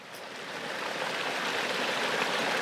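A river flows beside a flat land plot near Jogja, making a steady rushing wash of water that grows slightly louder with no voices over it.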